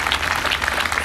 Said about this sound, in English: you can clap on that, because y'all are doing that